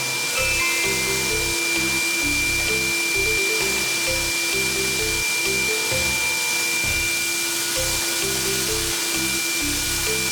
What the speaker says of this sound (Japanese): ここでも回転をさせながら洗浄して丁寧に洗浄します。